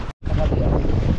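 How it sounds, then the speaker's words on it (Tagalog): Strong wind roars across the microphone on a boat out on the sea, a loud, steady rumbling gust broken by one brief dropout near the start. "Medyo lumakas ang hangin ngayon"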